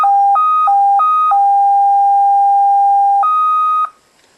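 A slowed-down FSK serial data burst plays as a sequence of steady electronic tones switching between two pitches, including one long held note, then stops abruptly.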